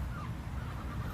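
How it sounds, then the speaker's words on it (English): Ducks at a goat farm in Dallas, Texas call out with a low, honking, overlapping chatter that runs through the whole short moment at moderate volume. "I see lots of ducks here."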